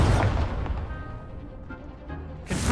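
Incendio fire spell cast in Hogwarts Legacy, a video game: a loud, fiery burst at the start fades into a low rumble, and a second sharp whoosh flares up near the end.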